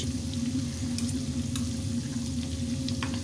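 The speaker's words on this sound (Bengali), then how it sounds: "পেঁয়াজটা দেওয়ার পর আবার একটু মিশিয়ে নিচ্ছি যাতে পেঁয়াজটা সুন্দরভাবে ভাজা হয়ে যায়" Chopped onion frying in a potato filling for Mughlai paratha, a constant dense sizzle with faint scraping of a spatula stirring through it, close and steady with no talking.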